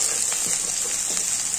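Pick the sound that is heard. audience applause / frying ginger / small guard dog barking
frying ginger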